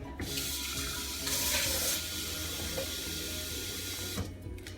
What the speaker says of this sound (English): I'm gonna add a little bit more water in.